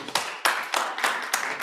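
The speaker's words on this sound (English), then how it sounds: "It's gonna be a better hand clap than that." A small group at a community work-group meeting claps hands in a loose, uneven burst of about six sharp, close claps, slightly out of sync.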